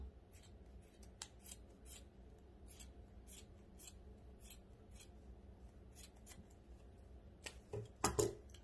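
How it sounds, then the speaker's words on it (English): Scissors snip repeatedly through the fingers of a knit glove during a winter wreath craft, a steady run of close, crisp cuts, with a louder cluster of snips near the end. "I'm going to cut the fingers off at this point"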